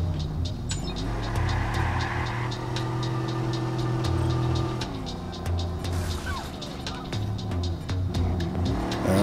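A car engine drives steadily through Watch Dogs online hacking gameplay on PS4, a loud continuous hum with shifting revs that dips briefly midway and then climbs again.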